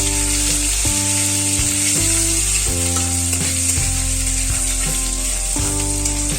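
Cloves, cinnamon, cardamom and ginger paste fry in hot oil with a bright, constant sizzling hiss, partly buried under loud, rhythmic background music with repeating tonal chords.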